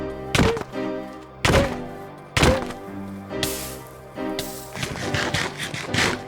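Splash potions thrown during play on a video game server land as a series of sharp thunks and glassy bursts, four or five distinct hits spaced about a second apart, moderately loud with busy game effects between them.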